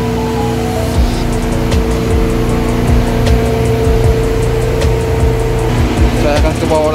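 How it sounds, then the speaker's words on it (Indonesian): Auxiliary generator, one of three Myanmar-made units in a cargo container ship's engine room, running with a loud, steady droning engine hum and rumble that fills the space, heard close up. "auxiliary engine atau generator. Generatornya buatan merek Myanmar. Ada 3 unit generator."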